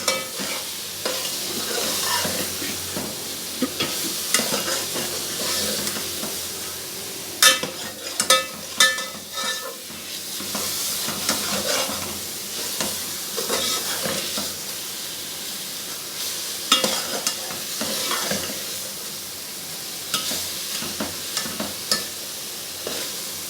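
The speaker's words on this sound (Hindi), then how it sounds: "देखें यहाँ हमारी सब्ज़ी अच्छी खासी भुन गई है और ये देखें नीचे लगने की तैयारी कर रही है" Amaranth greens (chaulai saag) frying in a pan while being stirred. Close, continuous sizzling and steam hiss are broken by repeated scraping strokes and occasional light utensil clinks.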